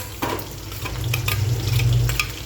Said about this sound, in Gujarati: પહેલાં તો આપણે જો રાઈ ને જીરું નાખશું અને પછી નાખીશું મરચા